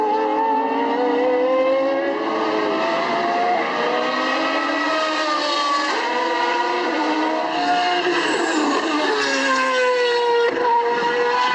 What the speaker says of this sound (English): Right there, that's the exhaust note right there going into that first turn.